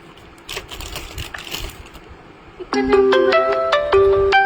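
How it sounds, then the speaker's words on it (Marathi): A phone's ringtone for an incoming call breaks in with a loud, bright electronic melody of repeated stepped tones, following a stretch of muffled background noise. "एक मिनिट, फोन येतोय कोणाचा."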